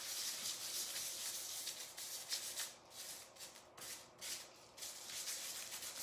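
Metal leaf is burnished by hand onto a raised hot glue cross on a painted canvas, giving soft, faint, close rubbing strokes that come and go in an uneven rhythm.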